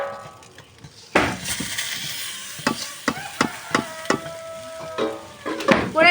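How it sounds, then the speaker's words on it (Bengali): Rice and lentils for khichuri are stirred in hot oil in a wok: a sizzling bed broken by a run of sharp scraping clinks, about one a second, close and fairly loud, with no talking. "কড়াই তেল দিয়ে চাল ডাল দিয়ে এবার ভালো করে একটু নেড়ে নেব।"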